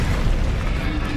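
A fire spell cast in the PS5 game Hogwarts Legacy, heard as a loud, dense whooshing burst that roars steadily for about a second with no speech over it.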